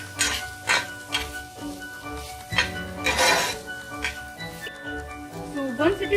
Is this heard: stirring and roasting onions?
yes